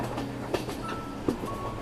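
A passenger train rolling along a mountain rail line in Mizoram, a steady rumble with rhythmic wheel clicks and a faint metallic squeal, heard from on board.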